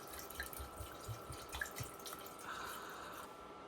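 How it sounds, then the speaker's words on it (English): Red wine poured into a pot for mulled wine, a soft continuous trickle with faint drips, quiet and close. "Now we're going to be adding the wine."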